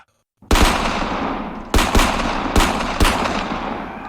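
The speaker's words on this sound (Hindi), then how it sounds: "पूरे 10 मिनट तक सेना ने भीड़ पर गोलियां चलाई।" Bursts of army gunfire on a crowd, as at the Jallianwala Bagh massacre, crack out after a moment of silence, with several sharp volleys ringing and decaying over a sustained rattle.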